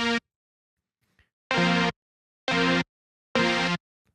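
A synthesizer sus4 chord is played in a short blip, then three more times in short, evenly spaced stabs with silence between them.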